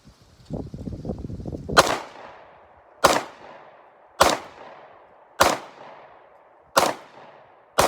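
A Sig P365XL pistol fires at a wooden board outdoors: after some low rumbling handling noise, five sharp, loud close reports ring out at a steady pace about a second apart, each trailing off into a short echo.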